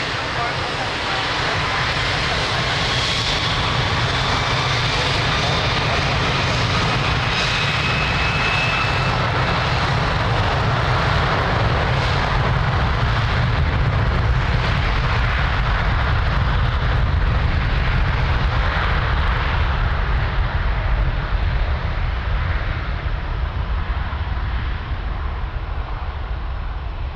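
A passenger jet takes off from runway 02 at Lisbon Airport, its engines giving a loud, steady roar that builds and holds for the whole stretch, with faint radio chatter underneath.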